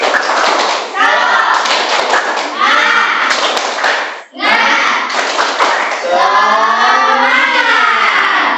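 A classroom of students performs a rhythmic spirit clap, sharp patterned claps mixed with children's voices chanting together, loud and close, broken by a brief pause midway.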